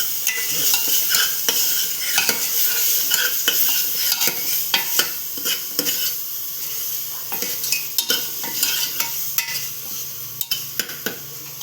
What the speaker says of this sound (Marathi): हळद हे मिरची पावडर चांगलं परतवलं